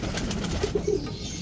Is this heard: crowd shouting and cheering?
no